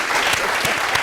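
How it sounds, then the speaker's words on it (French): A short burst of dense, steady applause from a group, loud and close, clapping evenly throughout with no talk over it. "Il faut applaudir pour ces hommes."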